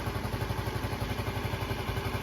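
A 50cc moped engine idles with a quick, even putter after a tune-up, steady and close, no voices.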